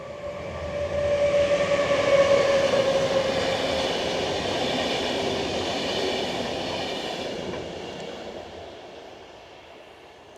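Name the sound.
passing train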